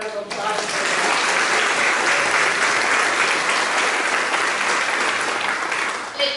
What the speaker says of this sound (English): I want to give you a round of applause for that